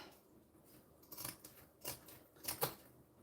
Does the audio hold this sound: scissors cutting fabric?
yes